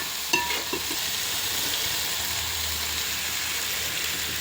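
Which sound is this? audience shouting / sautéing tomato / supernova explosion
sautéing tomato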